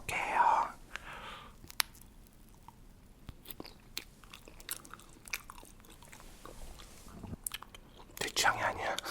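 Close, soft chewing of jelly gummies in grape and strawberry flavors, with faint crunchy bites and wet squishing in an irregular rhythm, plus brief whispery breathy sounds at the start and end.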